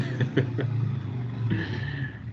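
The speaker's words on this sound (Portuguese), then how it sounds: "acostumado já a ouvir moto nas minhas aulas" A motorcycle passes outside a room, a steady mid-pitched engine drone lasting a couple of seconds at moderate distance, with a slight rise in pitch partway through.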